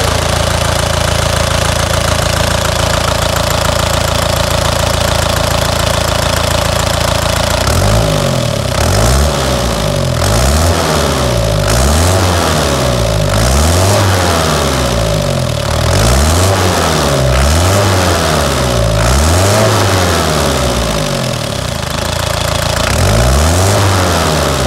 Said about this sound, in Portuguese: O famoso motor 14B da Bandeirantes, motor Toyota.